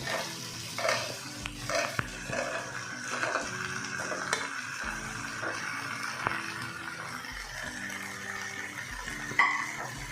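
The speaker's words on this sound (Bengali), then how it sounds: "ওলটা দিয়ে একটু নেড়ে দেবো, যাতে ভালো করে মশলাগুলো ঢুকে যায়।" Elephant foot yam is stirred into a simmering spiced curry in a pan, giving soft scraping and shuffling strokes over a low, steady sizzle at close range.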